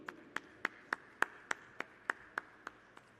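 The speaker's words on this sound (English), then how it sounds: "A big round of applause to Vishu." Slow, evenly spaced single claps, about eleven in three seconds, ring out sharply in a hall at a felicitation ceremony during a plumbing industry expo, each clap distinct with quiet gaps between.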